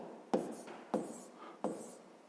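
Writing out a sixth-grade math solution by hand, three separate stroke-like scratches spaced roughly evenly, close and soft, with no speech.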